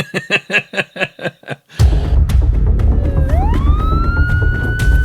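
A rhythmic electronic beeping gives way to a loud, close police siren rising in pitch over heavy engine rumble.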